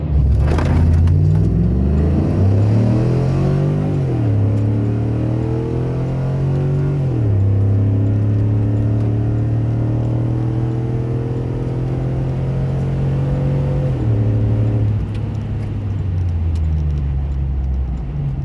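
A Chevrolet Silverado with a 6.0 engine swap making a quarter-mile drag run: loud, close engine roar that climbs through the gears, with rising revs broken by shift drops, continuous for the full run.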